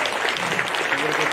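A crowd at an awards night applauds VIP guests, steady and full clapping that is fairly loud and even throughout.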